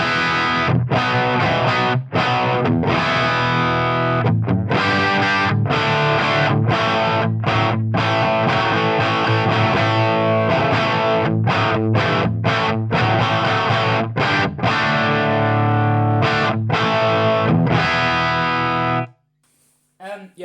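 Electric guitar played through a Marshall Vintage Modern amp with a distorted crunch tone, no reverb, loud and close with chugging chords and brief stops between phrases, ending abruptly.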